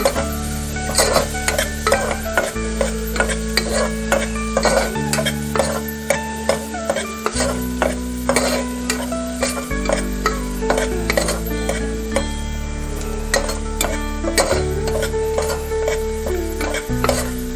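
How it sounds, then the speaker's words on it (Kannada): Onions frying in oil in a pan for spinach dal, with constant sizzling under repeated spoon stirs that scrape and clink against the metal, close and loud throughout. "ಫ್ರೈ ಆಗ್ತಾ ಇದೆ"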